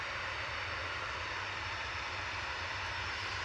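A TUI Boeing 737-800 jet departs Manchester Airport, its engine roar a steady, loud, broadband rumble that holds constant throughout, with no talk over it.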